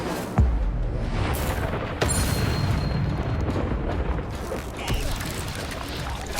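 Incendio fire spell cast in Hogwarts Legacy: a sudden low boom at the start, then a steady roaring whoosh of flame with another burst near the middle, loud and close under game ambience.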